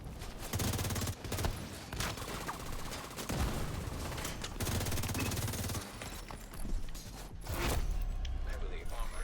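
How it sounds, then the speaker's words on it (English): Gunfire in The Division 2 video game: repeated sharp shots and bursts of rapid fire, loud and close, interspersed with mechanical clicks and brief pauses across the scene. "Going for a headshot."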